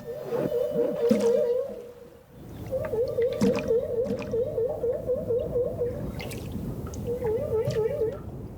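Humpback whale calls repeat in wavering, modulated tones over a low underwater rumble, breaking off briefly and then resuming several times.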